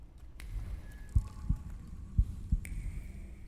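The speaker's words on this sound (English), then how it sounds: "I just heard a heartbeat." A heartbeat thumps in the video game Phenexa - The Thaumaturge, two pairs of low, close lub-dub beats over a dark ambient hum with faint eerie tones.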